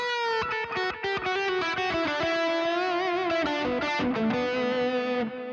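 Distorted electric guitar with Bare Knuckle Painkiller pickups through a Quad Cortex modelling a Soldano Super Lead power amp, playing a steady run of loud overdriven chords and notes alone for several seconds.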